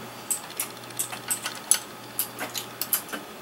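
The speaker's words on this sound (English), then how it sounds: "first thing you do is you get your wrench." A wrench on a bolt of a bullet lubricator-sizer gives a quiet series of light, irregular ratcheting clicks, about a dozen ticks spread over a few seconds, close by with no talking.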